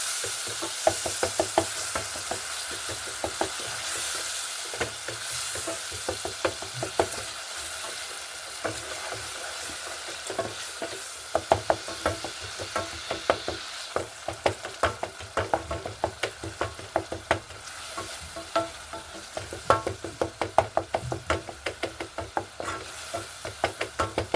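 Tomatoes are stirred in a cooking pot over a fire in an African village on a rainy evening, with a steady frying sizzle and frequent sharp knocks of the spoon against the pot.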